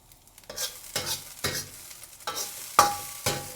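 Rice being stir-fried in a hot wok for Chinese special fried rice, with a spatula turning and flattening it in repeated scraping strokes about every half second over a steady sizzle, plus one sharp metallic clink near the end.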